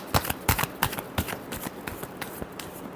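Tarot cards are shuffled by hand in a quick series of crisp riffling slaps and flutters, close and fairly quiet, with no voice over them.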